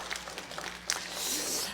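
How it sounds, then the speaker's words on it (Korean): A church congregation breaks into faint, soft applause after a prayer, with scattered claps at first that swell into a steady patter. "하나님께 영광의 감사의 박수를 드립니다"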